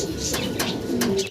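A pair of red Danish pigeons coo close by in soft, repeated throaty calls, with a few brief higher chirps rising over steady low background noise.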